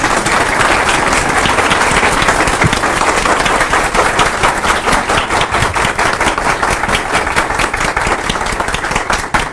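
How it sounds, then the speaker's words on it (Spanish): Sustained applause from an audience at the close of a conference session, dense and loud throughout with no talk over it. "Buen aplauso."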